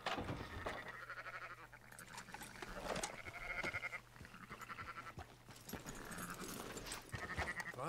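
Sheep bleat repeatedly in the Red Dead Redemption 2 video game, faint wavering calls rising and falling over a quiet farmyard ambience with soft hoof and rustling sounds, no speech.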